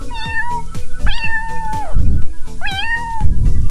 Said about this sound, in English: This is cat's meow.